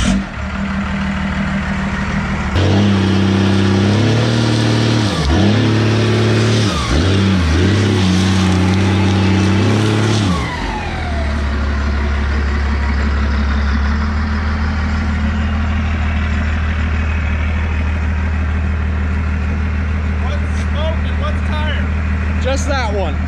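Mercedes W100 engine revving hard in repeated loud bursts during a tire burnout, then settling into a steady, heavy, high-rpm drone, with people talking over it.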